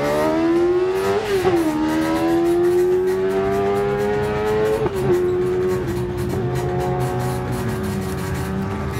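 Race car passing at speed on a drag strip during a test-and-tune day, a loud sustained engine whine with shifting pitch as it goes by, alone without talk.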